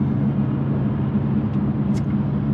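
Moving road traffic on a drive from San Marcos toward Pasadena gives a steady low rumble of engines and tires, with a couple of brief higher swishes from nearby vehicles.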